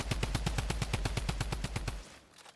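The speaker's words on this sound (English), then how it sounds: "I think this guy has a mammoth pistol." Rapid gunfire in Fortnite Zero Build: a close, evenly spaced burst of about a dozen sharp shots fired in quick succession, ending abruptly into near silence.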